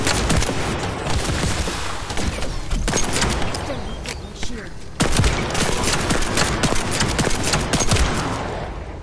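Heavy gunfire in The First Descendant, volleys of rapid shots and bursts layered over each other, loud and close, with a brief lull before the firing picks back up, and voices talking over it.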